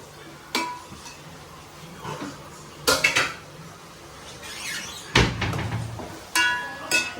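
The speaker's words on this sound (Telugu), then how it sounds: "ఇప్పుడైతే చాప ముక్కలు వేసేద్దాం ఇందులో" Fish pieces seasoned with salt and chilli go into a pan of mango fish curry, with scattered clinks and clatters of pan and utensil, a few sharper knocks standing out against a quiet background.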